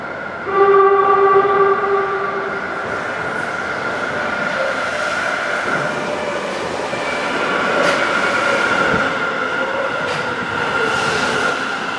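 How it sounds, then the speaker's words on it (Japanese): A subway train on the Sendai City Subway Tozai Line rumbles and whines as it pulls into a station, with tonal hums and squeals rising over a continuous mechanical drone. "A train is approaching platform 1."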